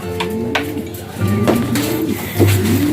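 Close, loud cooing from a racing pigeon in a few rolling bursts, with faint chatter nearby.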